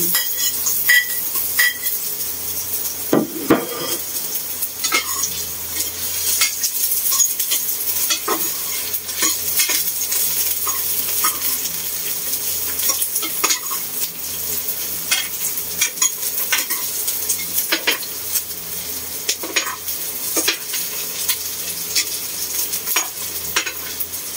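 Chopped onion sizzles and fries steadily in a hot pan, with a utensil scraping and stirring through it in frequent clinks and scrapes, close and continuous, no talk.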